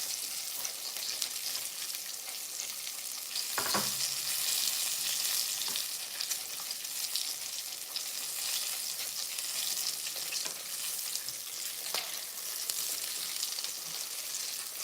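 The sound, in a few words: turkey breast frying in oil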